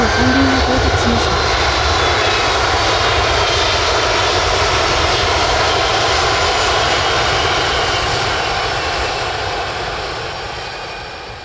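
Loud, sustained roar of an ANA passenger jet's engines arriving at Takamatsu airport, a broad steady rumble close by that slowly fades toward the end.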